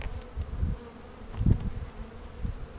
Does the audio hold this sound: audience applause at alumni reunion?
no